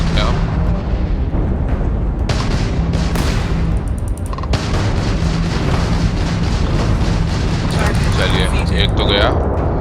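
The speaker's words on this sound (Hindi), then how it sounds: "चलिए हो गया लॉक, मिसाइल छोड़ते हैं हम।" Missiles launch and explode during a space battle in the video game Starfield, dense rumbling blasts and booms layered with sharp bursts, loud and continuous, while someone comments over the game action.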